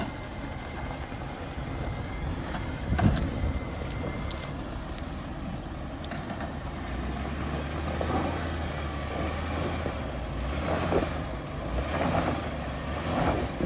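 Jeep WJ engine revving and droning steadily while climbing a dirt off-road hill, a low continuous rumble with occasional clunks and rattles, fairly quiet and without talk.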